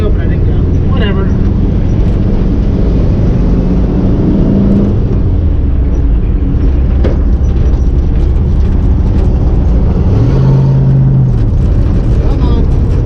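A 1961 Volkswagen with a manual transmission drones along in a loud, constant low engine rumble heard from inside the car, its pitch shifting now and then, while the driver talks.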